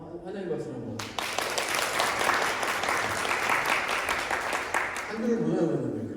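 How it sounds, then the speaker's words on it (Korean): Welcoming applause from a church congregation during a Sunday service, a burst of clapping that starts abruptly after speech and holds steady for several seconds before voices return at the end. "환영의 박수 한번."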